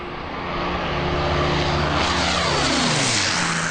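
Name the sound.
de Havilland Mosquito WWII bomber aircraft engine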